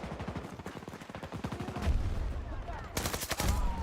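Rapid gunfire in a Battlefield shooter: fast bursts of sharp automatic shots, a steady rattling stream that breaks into a louder, harsher volley near the end, with game effects underneath.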